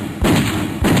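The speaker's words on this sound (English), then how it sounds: "All of a sudden, gunshots are heard." Two heavy, booming gunshot sound effects fire in quick succession, each a sharp low thump with a rumbling tail, loud and close with no talk.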